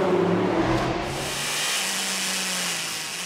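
Toyota and Porsche endurance race cars battle on the Shanghai circuit, a loud engine roar close by that fades into a wash of distant engine noise.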